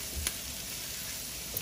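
A ribeye steak sizzles steadily in a hot pan, a continuous close crackling hiss with a couple of brief louder pops, no talking.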